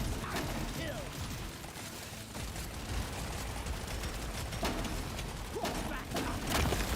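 Turrets in Deep Rock Galactic Survivor fire a scattered mix of clattering shots and mechanical rattles amid dense game noise, with a voice talking over it at times.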